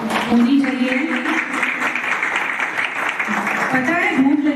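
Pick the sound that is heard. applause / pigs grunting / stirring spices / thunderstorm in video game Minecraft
applause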